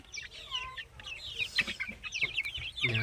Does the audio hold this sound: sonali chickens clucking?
yes